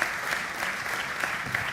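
Steady applause from an audience at an agricultural innovation panel discussion, continuous dense clapping throughout at moderate distance, with no talk over it.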